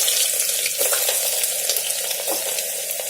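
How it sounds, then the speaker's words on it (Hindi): Whole spices and onions fry in hot oil in a pan, giving a steady close sizzle with soft crackles and a few brief stirring scrapes throughout, with no talk over it. "तो थोड़ा सा भुन गए हैं, इसी में हम प्याज डाल देंगे।"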